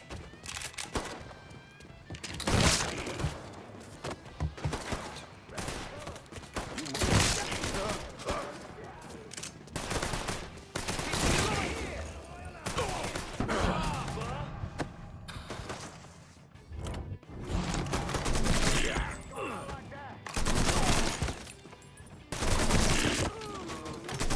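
Mafia 3 video game firefight with repeated bursts and single shots of gunfire, irregular and loud, mixed with clattering mechanisms and shouting game voices throughout.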